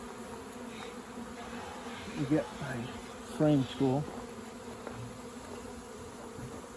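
Steady low hum of many honey bees buzzing at a backyard hive of about 60,000 to 70,000 bees, with a few brief spoken phrases over it.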